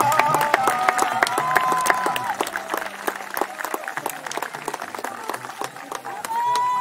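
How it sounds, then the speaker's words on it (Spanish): An audience applauds at the end of a performance, with sharp, close, irregular claps mixed with crowd noise and some cheering, while a voice speaks over it. "si no aplauden es porque no les gustó"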